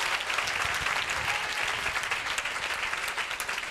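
Applause in a church during a Sunday morning service, dense and continuous clapping from the congregation throughout, with no voices standing out.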